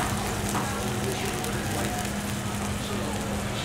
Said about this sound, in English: I'm gonna go ahead and increase the temperature up a little bit just so I can get a quick sear